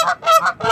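Geese honk loudly and close in a parking lot, several calls in a row in quick repeated bursts with no talk over them.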